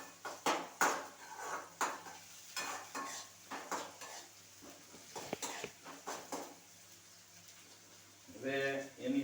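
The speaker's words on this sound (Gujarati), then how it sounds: "ડુંગળી થોડી હવે આપણે શેકી નાખીએ નાખો તેલમાં" Onion is fried in oil in a pan, with repeated sharp clinks and scrapes of stirring over a faint sizzle, and a louder sputter of frying near the end.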